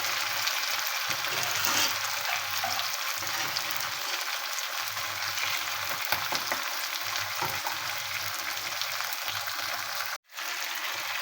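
Mutton for karela gosht frying in a pot, a steady dense sizzle with stirring scrapes throughout, moderately loud and close, ending in a brief drop.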